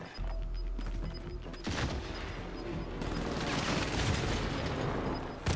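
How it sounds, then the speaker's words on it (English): Precision airstrike explosions in the video game Warzone: a dense, loud barrage of booming blasts and crackling gunfire-like bursts rolling almost continuously, with heavier impacts building toward the end. "Enemy precision airstrike."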